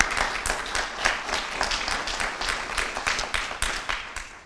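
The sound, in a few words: applause for community volunteers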